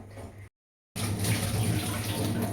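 Water runs from a tap while a clay pot is washed. The close, steady splashing stops briefly, then starts again.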